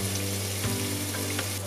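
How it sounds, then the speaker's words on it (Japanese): Ginger sizzles steadily in hot sesame oil in a pot, with a soft stirring knock partway through and no voices. "お鍋に生姜を入れて、生姜の香りが出てくるまでじっくり炒めます。"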